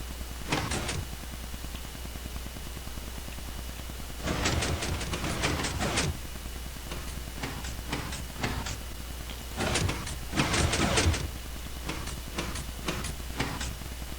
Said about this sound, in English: which should make it so that the pistons extend much more slowly